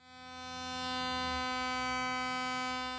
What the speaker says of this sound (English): This is a squeaky music stand, and as we pitch shift it down, you're gonna hear it transform.